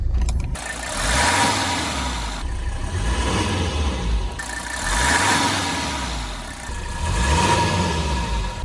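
A 1982 Mercedes-Benz 300SD W126 turbo diesel engine starts and runs steadily close by, its low rumble swelling in a few gentle revs, with no voices over it.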